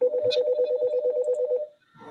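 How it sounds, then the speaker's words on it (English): A mobile phone rings with a steady warbling electronic tone pulsing rapidly for about a second and a half, close and clear, then cuts off as a faint voice begins. "let me let my phone quit ringing here"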